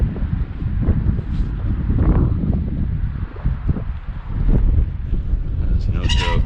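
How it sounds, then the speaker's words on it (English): Strong gusting wind on an open windy day roars and buffets the microphone continuously, loud and dense throughout, with a faint high squeak near the end. "Boy, that wind is something else."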